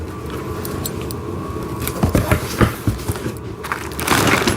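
Plastic packaging crinkles and crunches as a wooden train set is unwrapped, a steady rustle with sharper crackling bursts toward the middle and a louder rustle at the end.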